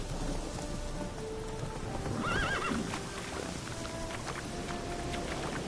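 Roach, the horse in The Witcher 3, runs with quick rhythmic hoofbeats and gives a clear whinny partway through, set against an ambient game soundscape that sounds like light rain.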